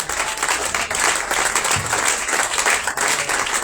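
A church congregation at a Passover conference claps and cheers in acclamation, a busy, steady roar of hands and voices filling the room throughout.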